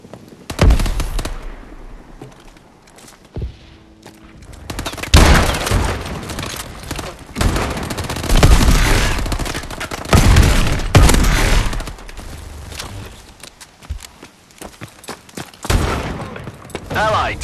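Suppressive gunfire in Call of Duty: Advanced Warfare Exo Survival mode, with loud bursts and rapid volleys of shots crackling in irregular clusters, some fading to quieter gaps, and game voices calling out between and over the firing.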